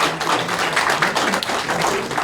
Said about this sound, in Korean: 과장님 박수로 환영해 주시기 바랍니다.